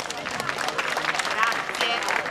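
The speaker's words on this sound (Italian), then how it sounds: "Se vi siete divertiti, fate un altro bel applauso" An audience at the International Folklore Festival in Lavello gives a round of applause, a thick continuous patter of many hands with some voices rising over it.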